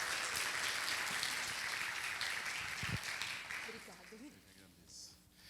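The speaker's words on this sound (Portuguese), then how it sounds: "Uma salva de palmas" Audience at a lecture on electro-aesthetics giving a round of applause, a dense wash of clapping that fades out, with voices and murmuring coming in near the end.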